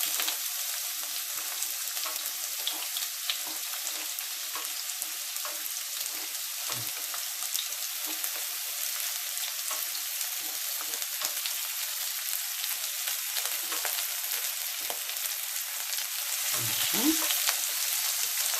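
Chopped onion sizzles and crackles in a hot pan with herbs such as sage, a steady close frying hiss throughout, with occasional stirring and utensil knocks, and no voices.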